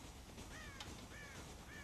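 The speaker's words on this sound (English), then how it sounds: "God damn crows!" A few harsh crow caws in the Red Dead Redemption game sound faintly from a farm silo, three short calls spaced over a constant wind-like background hiss.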